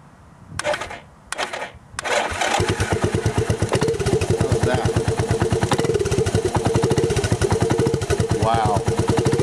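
Honda TRX125 ATV being revived: a couple of short pull attempts, then the small single-cylinder engine catches and settles into a fast, steady, loud putter that runs on close by.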